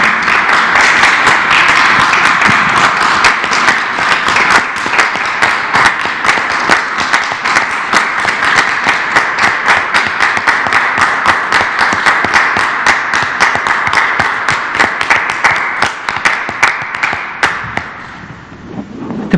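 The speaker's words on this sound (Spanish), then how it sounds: "con un aplauso de pie homenajeamos y agradecemos también al personal de salud" A standing crowd at a daily press conference applauds as a tribute to health workers: dense, sustained clapping at a steady intensity for most of the time, fading toward the end.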